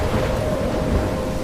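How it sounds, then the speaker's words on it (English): A thunderstorm in the video game Life Is Strange, with steady, dense rumbling rain and wind noise that fills the whole moment without a break. "I'm trapped in a storm?"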